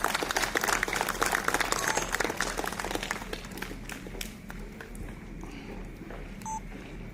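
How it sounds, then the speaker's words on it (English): An audience at an Indo-US healthcare AI workshop applauds as speakers come onto the dais, with dense clapping that is loudest at first and fades over several seconds, leaving a quieter room with a low steady hum and a few faint electronic beeps. "Please give them a big round of applause."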